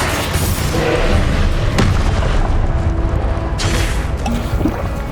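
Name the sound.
Confringo explosive spell in a video game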